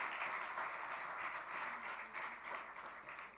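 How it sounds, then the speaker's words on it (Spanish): A church congregation gives applause during a sermon, heard as a faint, soft, continuous rustle of many hands clapping at a distance, steady for a few seconds with no talk over it. "¿Cuántos le dan un buen aplauso al Señor por haberle conocido?"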